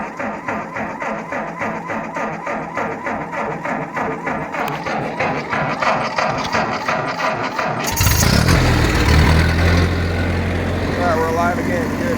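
A cheap refurbished tractor engine idles with a steady, rapid firing pulse, then at about eight seconds surges into a loud, rough rev as the carburetor is tuned.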